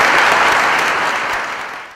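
Loud, dense applause from a conference audience welcoming economist Daniel Cohen, a thick continuous wash of many hands clapping close by, tapering slightly at the end.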